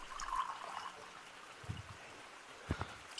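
Water pouring in the Gorilla Tag video game, a faint, quiet trickling stream with a few soft thuds, heard alone.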